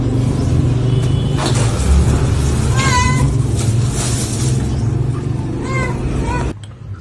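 Kittens meowing close by, a few high, short mews rising over a constant loud rumble of road traffic, with people speaking in the background; the noise drops off abruptly near the end.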